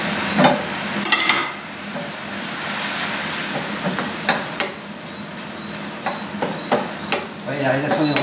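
Butter sizzles and frying food is stirred in an induction wok, steady sizzle under scattered utensil clinks and scrapes, fairly close with no speech.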